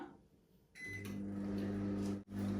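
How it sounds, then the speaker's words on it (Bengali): A microwave oven heating a bowl of homemade misti doi hums steadily and loudly after a soft click at the start, its low motor drone constant apart from one brief dip near the end. "পয়লা আমি মাইক্রোওভেনটা ভিতরে ঢুকাইলাম। সো আমি 30 সেকেন্ড দিলাম।"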